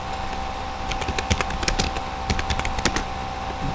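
Someone types code on a computer keyboard at close range, with irregular bursts of light key clicks over a faint steady hum.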